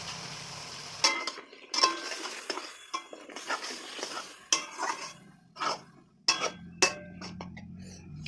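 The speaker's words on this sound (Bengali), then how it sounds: "এখন শুধু কষাতে হবে" Ground onion, garlic and ginger paste being stirred and sautéed with chicken in a pan, with irregular clinks and scrapes of a utensil against metal over a low sizzle. The sound comes in short bursts and pauses, close and fairly quiet.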